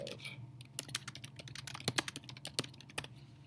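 Computer keyboard typing, a quick irregular run of soft key clicks, close and quiet, with no voices.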